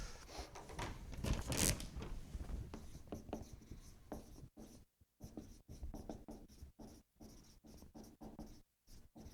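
Chalk or marker scratching across a board during a chemistry lecture, quiet repeated strokes and taps in an uneven rhythm with short pauses, close and faint, without talk.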